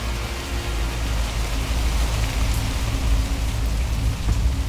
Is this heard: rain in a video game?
yes